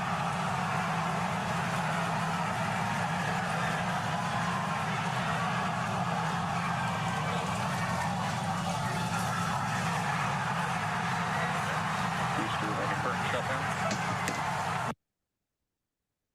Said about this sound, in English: Landing burn has been ignited. We're now down to 3 Raptor engines.